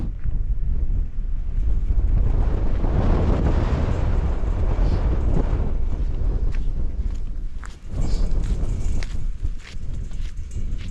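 Strong winter wind batters the microphone on a hilltop in the Southern Uplands. Loud, roaring gusts rise and ease for the whole stretch, with no speech.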